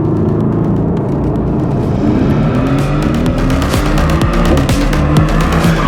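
A Mercedes-AMG GT R Coupe engine roars loud and steady at close range, its pitch climbing and falling through gear changes, while the tires squeal throughout.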